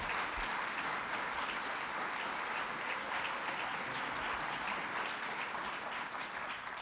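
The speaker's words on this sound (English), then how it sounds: "Let's give her another round of applause" Another round of audience applause at Governor Cuomo's 100-days address, a wash of many hands clapping at once, steady and continuous, heard from a distance and fairly faint.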